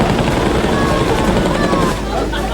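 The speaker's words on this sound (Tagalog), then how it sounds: "Ang Philippine Air Force nagpalipad na rin ng helicopter para tumulong sa pagsasaboy ng tubig." A Philippine Air Force helicopter flies over a residential fire, dropping water, its rotor making a loud, steady throbbing thump that stays close and fills the short stretch without pause.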